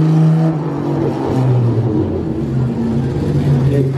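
A vintage Jaguar sports car at a Monaco concours d'elegance drives by with a steady, droning engine hum, moderately loud and close, holding a fairly even pitch as it passes.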